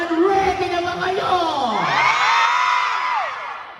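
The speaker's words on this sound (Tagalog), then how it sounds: "Grabe, paninig po ko ng palakpakan na may kasamang hiyawan." Loud cheering crowd at a Cebu mall show, a dense wash of screams, whoops and shouting that swells and holds for a few seconds, with a voice sliding over the top.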